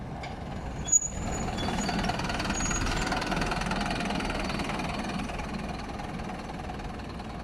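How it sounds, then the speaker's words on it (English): A Kev's Cars and Coaches Optare Solo SR bus idles and rolls slowly into a bus station with a steady low engine rumble. A sharp hiss or clank comes early on. "Here comes one of the Kev's Cars and Coaches buses."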